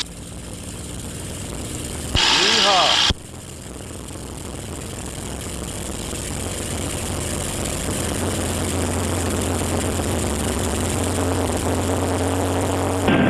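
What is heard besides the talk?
TF-51 aircraft engine running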